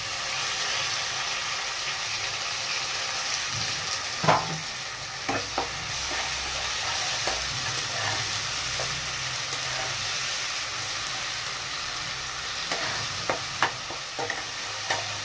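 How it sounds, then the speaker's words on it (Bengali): Ginger, garlic and chili paste frying with onions for egg biryani gives a continuous hiss of sizzling oil, with occasional spatula scrapes and taps against the pan. Close and steady, with no talking. "ভালো করে আদা রসুন লঙ্কা যতক্ষণ না কাঁচা গন্ধটা যাচ্ছে ততক্ষণ এটা ফ্রাই করতে দিতে হবে।"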